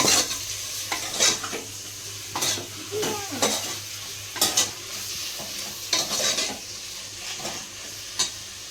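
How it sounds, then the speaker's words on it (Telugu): Mutton sizzles in oil with ground onion paste in a pan, with repeated scraping and stirring strokes from a utensil, close and busy, no one talking. "ఉల్లిపాయ పేస్ట్ అయితే మిక్సీకి పట్టేసుకొని ఇంకా ఆయిల్లోకి వేసుకున్నాను"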